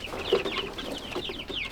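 Backyard hens and a rooster cluck and murmur at bedtime, a busy run of short chirpy calls and low clucks close by, steady and overlapping, without human speech.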